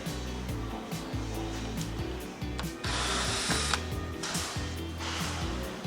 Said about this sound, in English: come behind with the cordless drill and remove the screw so we can take this